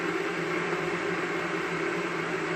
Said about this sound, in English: Hopefully you can hear me over the kettle.